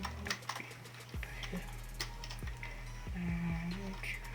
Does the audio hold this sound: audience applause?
no